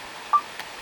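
A single short keypad beep sounds as a key is pressed on an Elecraft KX2 ham radio transceiver while changing bands, clear and close against a quiet background with a faint click after.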